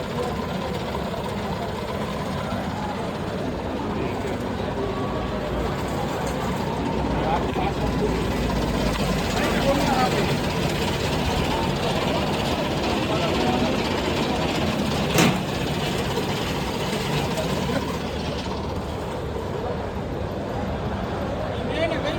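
A steady tractor engine powering a motor drones continuously at a constant speed, loud and close, with faint voices occasionally audible beneath the mechanical hum.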